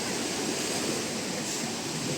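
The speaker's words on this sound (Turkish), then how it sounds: "Sahildeyiz." Sea waves at a beach, a continuous, fairly loud wash of surf with no distinct breaks, filling the short moment without any voices.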